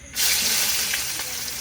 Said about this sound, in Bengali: এবার তেলে দিয়ে দেবো তেজপাতা দারচিনি এলাচ লবঙ্গ কয়টা গোলমরিচ এবারে দিয়ে দেবো পেঁয়াজ কুচি